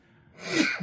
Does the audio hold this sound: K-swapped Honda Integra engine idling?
no